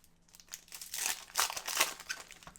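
Trading card packs from a hobby box mixer being torn open, bursts of crinkling foil wrapper and tearing close to the mic, several quick rips in a row with no talking.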